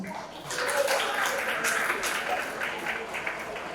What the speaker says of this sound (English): Ladies and gentlemen, a big round of applause for the winners and the presenters